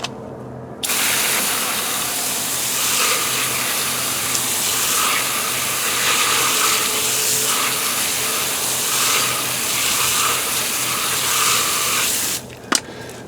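A strong water spray rinses brake dust cleaner off a heavily soiled car wheel rim in a loud, steady hiss that runs for most of the twelve seconds, starting and stopping abruptly, with no talk.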